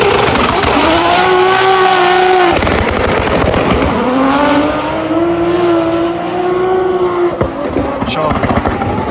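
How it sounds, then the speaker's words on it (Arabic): Drift car with a turbo, revving hard in rising and falling sweeps for about nine seconds, loud and close, with sharp pops near the end; speech 0.56 suggests voices may be mixed in. "اسمعوا صوت التربو بتاعها بس."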